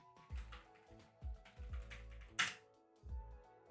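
Computer keyboard typing while coding a programming puzzle late at night, heard as several close, distinct clusters of soft key taps spread over a few seconds with one sharper, brighter click near the middle.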